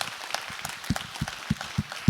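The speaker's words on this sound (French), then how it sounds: "On peut les applaudir" Scattered, slow applause at an event, a few distinct hand claps spaced roughly evenly over a soft background murmur, fairly quiet and sparse.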